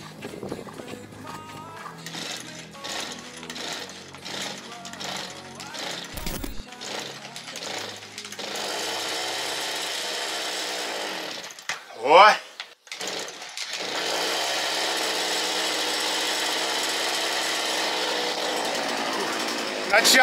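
A petrol chainsaw engine revs with a rough, buzzing drone, sputtering in uneven pulses at first, then cutting out briefly before settling into a steady, loud high-revving run.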